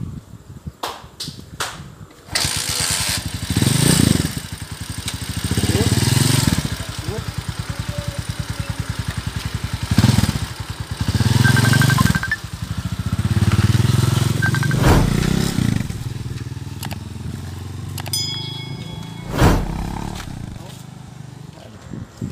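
A Honda TMX125 Alpha motorcycle with a 200cc conversion revs hard up close, its engine roaring and rattling in repeated bursts between lulls of idle, with people talking nearby.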